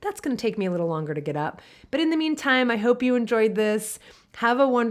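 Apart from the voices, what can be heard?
No everyday noise stands out behind the speech.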